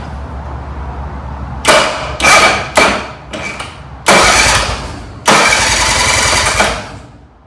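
A neglected Yamaha 25HP outboard motor has its electric starter cranked in about six short bursts separated by brief pauses, loud and close, with a low idle-like hum underneath and no voices.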